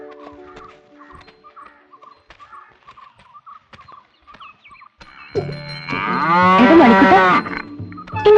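A cow bellows one loud, drawn-out moo lasting about two seconds, following a quiet stretch of faint scattered clicks and taps.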